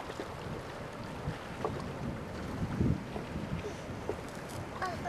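A steam tugboat passes on the Waal river, a low continuous rumble under heavy wind buffeting on the microphone, with faint voices.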